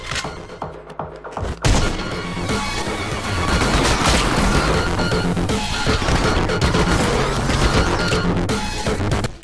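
Weapons fire in the action game Anger Foot: after a short quiet opening comes a dense, loud barrage of rapid shots, crashes and booms that keeps going almost to the end.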